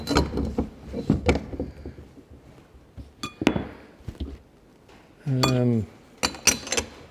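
Metal plates being handled and fitted while assembling a Vevor 11000 lb shop air bag jack: scattered sharp metallic clinks and knocks, close by, with a brief ringing scrape in the middle.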